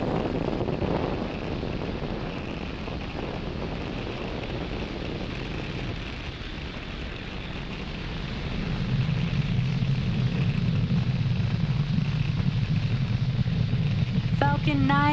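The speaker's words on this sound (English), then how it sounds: "Falcon 9 has successfully lifted off from Pad 40 at Cape Canaveral Space Force Station" A SpaceX Falcon 9 rocket climbs away after lifting off from Pad 40 at Cape Canaveral Space Force Station, a broad steady roar with wind buffeting that swells partway through.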